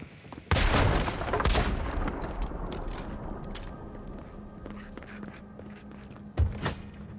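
A burst of gunfire in the fantasy video game Avowed, loud sharp cracks opening the stretch and then trailing into a busy rumble of combat, with another shot near the end.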